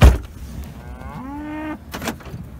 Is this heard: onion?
no